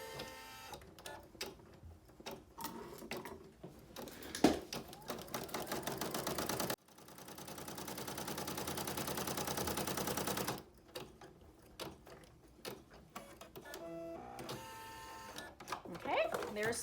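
An embroidery machine sews a placement stitch outline for in-the-hoop mittens on tearaway stabilizer, giving a close, steady rapid mechanical rattle and hum that stops and restarts in long stretches, with a person talking over parts of it.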